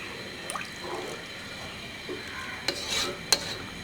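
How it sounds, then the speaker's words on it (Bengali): Water poured into a pot of fried rice and lentils for khichuri, giving a brief hiss and bubbling sizzle with a few sharp clinks of a spoon against the pot, close by. "এখন এর মধ্যে আমরা পানি দিয়ে দেবো"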